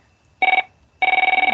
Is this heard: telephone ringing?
yes